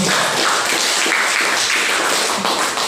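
A classroom group in Indonesia gives a burst of applause for group 3, dense, continuous clapping from many hands, fairly loud and close, lasting throughout.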